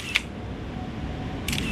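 Single-lens reflex camera taking a portrait shot, two crisp mechanical shutter clicks about a second and a half apart, close and distinct over a low steady background hum, with no voices.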